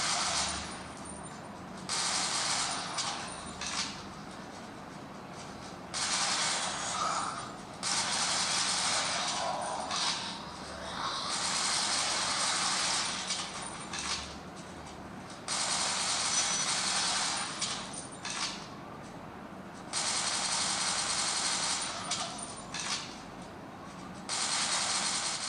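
Gunfire and action sounds from the mobile shooter Dead Trigger, played on a Xolo Q1000 phone: dense, noisy bursts that start and stop repeatedly over a steady background, with no one talking.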